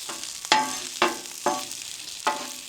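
Potatoes and onions sizzle steadily in a pan on a camp stove outdoors by the Mississippi River, with close scraping stirs from a utensil landing about every half second.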